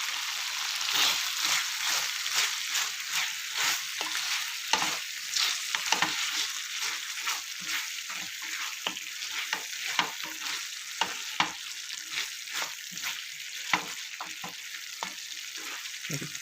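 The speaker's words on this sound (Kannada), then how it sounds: "ಇವಾಗ ಕೊತ್ತಂಬರಿ ಸೊಪ್ಪನ್ನ ಆ್ಯಡ್ ಮಾಡಿಕೊಂಡು 1-2 ನಿಮಿಷ ಫ್ರೈ ಮಾಡ್ಕೊಳ್ಳೋಣ" Drumstick curry with coriander leaves frying in a pan, giving a steady close sizzle broken by frequent crackling pops and scraping stirs across the whole stretch, with no talking.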